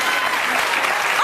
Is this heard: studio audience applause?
yes